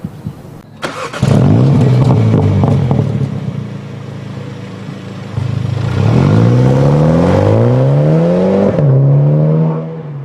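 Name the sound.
BMW M135i xDrive First Edition car driving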